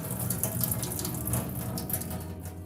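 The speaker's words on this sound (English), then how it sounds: "Can you let me pour the water out?" Water is poured out into a kitchen sink, a steady, soft splashing rush that runs unbroken at moderate loudness with no talking.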